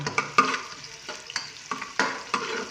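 Garlic frying in oil makes a close, bright sizzle, punctuated by repeated clacking stirs and scrapes in the pan. No one speaks.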